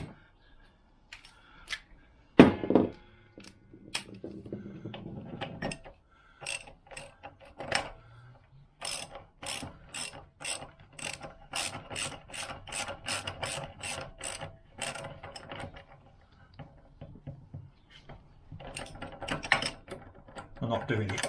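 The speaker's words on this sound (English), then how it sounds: "I get the socket and the ratchet." Socket ratchet working on a Lambretta Series 2 scooter engine during clutch work: a rapid run of crisp ratcheting clicks in steady bursts, close and fairly loud, with some handling clatter and brief talk early on.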